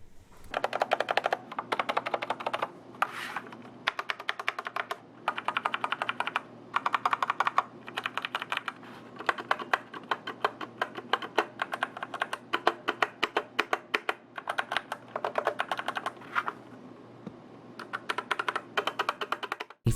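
Keys typed steadily on a Keychron C1 budget hot-swappable mechanical keyboard with a fairly empty case, giving a dense, continuous clatter of close, crisp keystrokes in bursts across the stretch, with no speech.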